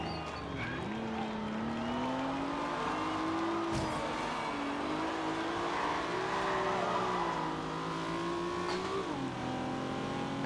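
A Mazda FD RX-7 rotary engine revs hard in the Forza Horizon 2 racing game during a race in San Giovanni, a steady high engine whine rising and dipping through gear changes.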